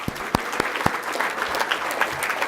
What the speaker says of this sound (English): So I'd like to give those guys a round of applause.